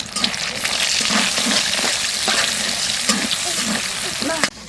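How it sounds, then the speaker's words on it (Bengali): Eggs scramble into bhujia in a hot pan: a loud, continuous frying sizzle with scraping stirs and occasional clinks, close by throughout. "এবার এই ডিমগুলো ভুজিয়া বানিয়ে নেব"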